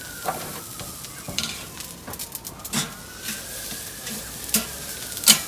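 A steak sears on a barbecue grill with a light sizzle broken by irregular scraping and tapping as it is moved about, plus a few sharper clicks, moderately close and without speech.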